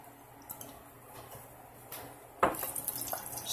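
Garlic stir-fried in a little oil in a pan while cooking pork adobo: quiet clinks and drips at first, then a sudden loud sizzle and hiss with scraping from about midway on. No one speaks.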